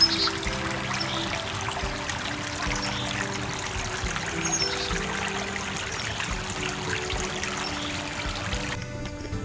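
Brook water trickling and flowing steadily over rocks in a wooded county park, a continuous close babble that holds evenly throughout with no talking.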